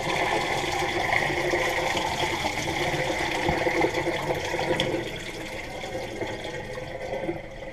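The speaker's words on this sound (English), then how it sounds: "So we're going to dump these off, dump the salt water off." Salt water brine is poured off a batch of fermented pickle cucumbers, a steady rushing splash of liquid that holds for several seconds before easing slightly, fairly close with no talking.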